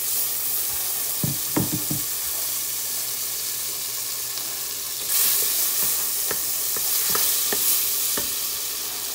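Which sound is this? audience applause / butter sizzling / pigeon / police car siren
butter sizzling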